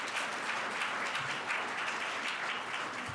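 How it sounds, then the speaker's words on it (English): At an innovation event in New Mexico, an audience applauds the organizing team with steady, dense clapping that fills a large room and holds evenly throughout. "If everybody wouldn't mind giving them a round of applause,"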